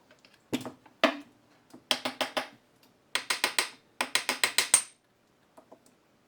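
Quick bursts of small clicking and ratcheting from a screwdriver turning out Phillips or JIS screws on the carburetor caps of a 1978 Suzuki GS550E, in short rhythmic runs with gaps between, close and fairly quiet.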